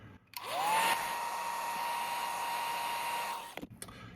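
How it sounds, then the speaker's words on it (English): A hair dryer whirs up and blows steadily for about three seconds at close range on Fabriano cold press 100% cotton 140 lb watercolor paper, then cuts off with a couple of faint clicks. "I'm going to hit this with a hairdryer just to lock in this texture right here"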